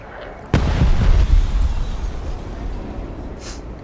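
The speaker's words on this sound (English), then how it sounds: "Laser guided bomb." A laser-guided bomb detonates in the Broken Arrow war game with one loud, sudden blast, followed by a deep rumbling roar that slowly fades over a few seconds.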